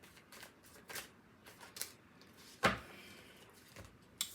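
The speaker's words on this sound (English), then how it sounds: "let's go ahead and let's pull out 3 tarot cards" Tarot cards shuffled and drawn during a reading: soft, intermittent papery rustles and slides across several seconds, with one sharper snap of a card near the middle, quiet and close, no talking.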